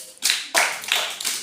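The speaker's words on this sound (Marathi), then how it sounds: "जोरात टाळ्या वाजवा वेदसाठी" A handful of close, sharp hand claps for a student named Ved in a classroom, four distinct bursts in an uneven rhythm with short gaps between them.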